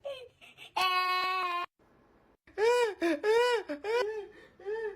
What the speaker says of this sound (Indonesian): Pak, dengar suara bayi nangis nggak?